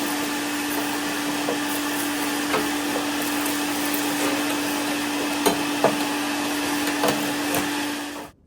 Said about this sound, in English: Let me get the vacuum real quick and suck this out.